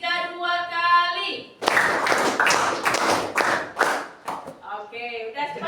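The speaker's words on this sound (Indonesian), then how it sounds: "tepuk 3 2 kali" A school class claps in rhythmic groups, a dense burst of close hand claps in the middle, framed by a teacher's voice before and after.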